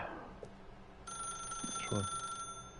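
A telephone in The Stanley Parable rings with a sustained electronic trill that starts partway through, moderately loud, while a person speaks and reacts over it.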